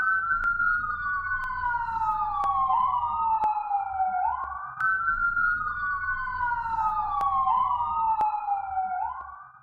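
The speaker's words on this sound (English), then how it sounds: "I'm gonna let these ambulances pass too" Ambulance sirens wail in a repeating falling-and-rising pattern, steady and moderately distant, cycling over about ten seconds with faint traffic rumble beneath and no talking.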